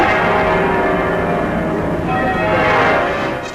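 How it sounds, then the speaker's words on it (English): The full peal of Liverpool Cathedral's bells, the heaviest and highest-ringing peal in the world, rings loud and continuous, its overlapping chimes filling the air in a dense wash for a 1951 royal visit. "the princess gave permission for the full peal of bells to ring for the first time"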